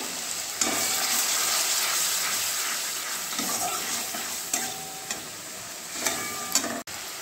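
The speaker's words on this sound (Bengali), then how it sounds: "সামান্য একটু জল দিয়ে ভালোভাবে কষিয়ে নেব।" Paneer masala spices with a splash of water sizzle steadily in a pan, a constant frying hiss broken by scraping stirs and occasional clinks of the spoon against the pan, up close without talking.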